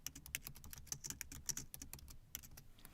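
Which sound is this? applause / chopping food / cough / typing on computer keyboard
typing on computer keyboard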